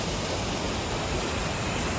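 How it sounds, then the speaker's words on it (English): A steady, dense roar of falling water from a waterfall on a small stream along the Cottonwood Creek Trail, loud and continuous, with no other sounds breaking through. "Check out that waterfall here."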